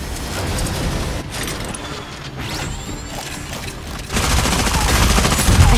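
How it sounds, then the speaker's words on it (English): In the mobile video game Super Mecha Champions, bursts of gunfire crackle in rapid, dense volleys that swell louder near the end, with mechanical clatter mixed in. "I hear gunfire."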